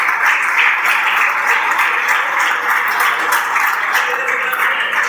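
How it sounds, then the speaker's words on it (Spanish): Church congregation giving loud, sustained applause during a sermon, a dense even roar of many hands clapping close by for several seconds, with no speech. "Denle un fuerte aplauso al Señor."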